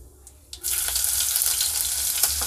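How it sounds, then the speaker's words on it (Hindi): Finely chopped green chillies drop into hot oil with browned cumin seeds and burst into a loud, crackling sizzle after a brief quiet moment, then keep frying steadily up close. "तेल गरम होने के बाद वन टीस्पून जीरा डाल देंगे जीरा हमारा ब्राउन हो गया है अब हम इसमें डाल देंगे बारीक कटी हरी मिर्च"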